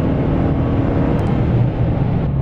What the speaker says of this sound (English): I'm going to slow down a little bit and then apply full throttle